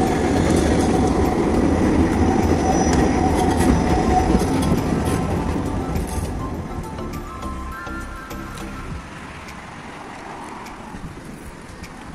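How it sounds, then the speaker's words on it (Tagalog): A train parked at a station gives a broad, steady rumbling roar, loud at first and slowly fading over the second half, with no voices. "Ayan yung train na nakapark dito."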